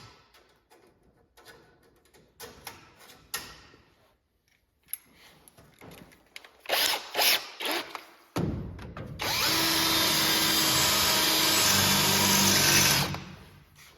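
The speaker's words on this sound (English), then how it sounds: "I got a small hole drilled so far." Power drill boring into a metal header support arm for a New Holland or Case IH combine header, scattered clicks and short bursts before a loud sustained whine of several seconds, close up with no talk.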